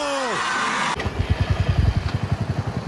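Motorbikes start up near a temple on a rainy day, a rising tone cutting off before an engine catches and settles into a close, loud, rhythmic chugging putter.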